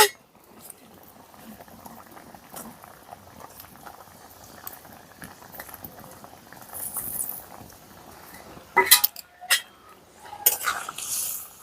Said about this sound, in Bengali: ঝোলটা আমার ফুটতিছে